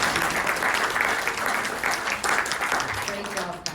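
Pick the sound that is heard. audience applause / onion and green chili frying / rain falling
audience applause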